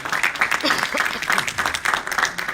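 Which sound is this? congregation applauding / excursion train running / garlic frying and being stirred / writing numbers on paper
congregation applauding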